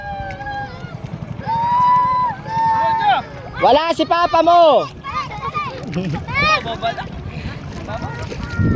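A motor on a family raft runs on the water as a low, steady buzz beneath loud, excited talk from adults and a child.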